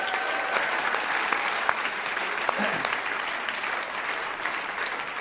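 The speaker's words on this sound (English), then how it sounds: "let's give those guys a round of applause" Church crowd applause at a brand reveal party, a fairly quiet, continuous spread of clapping from many people lasting about five seconds, with a faint voice briefly audible in the middle.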